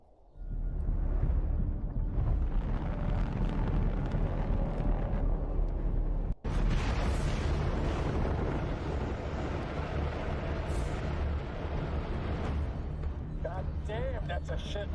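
Continuous heavy gunfire and rumbling explosions from a space combat video game with missiles and torpedoes incoming, loud and dense throughout, with one abrupt break midway and voices talking over the din.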